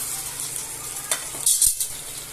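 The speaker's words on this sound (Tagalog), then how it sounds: "Lagyan natin ng lagyan natin ng sabaw. Yung pinaglagaan niya." Broth from boiling the meat is poured into a pan of meat. A steady close sizzle runs throughout, and it swells into a louder, bubbling hiss for a moment midway, with no one speaking.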